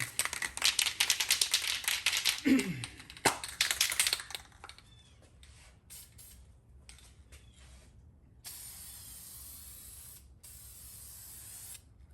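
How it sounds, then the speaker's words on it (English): Spray paint hissing from a can as a light first coat goes over carbon fiber, several short and long bursts with clicking nozzle presses, close by, followed by a quieter steady spray near the end. "just a light dusting for the first coat"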